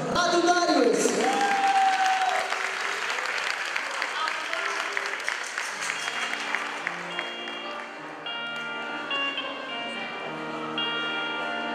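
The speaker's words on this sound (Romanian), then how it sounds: "Așa că vă rog frumos să-l aplaudăm și să-l încurajăm." Audience applause at a folk group concert fills the opening seconds, a dense burst of clapping with a voice over it, then dies down as sustained instrumental notes take over.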